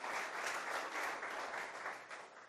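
Applause from a church congregation fills the space steadily, a dense, sustained wash of clapping with no voices over it, holding loud throughout before easing slightly near the end.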